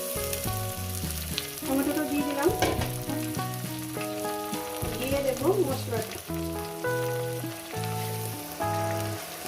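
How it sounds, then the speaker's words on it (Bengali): Tomato goes into a pan of fried onions and potatoes for a spicy rohu fish curry, setting off a steady sizzle with stirring. Clear background music plays over it. "আমার পেঁয়াজটা সুন্দর ভাজা হয়ে গেছে প্লাস আমার আলুগুলোও সুন্দর করে আমি ভেজে নিয়েছি এবার দিয়ে দেবো এখানে টমেটোটা"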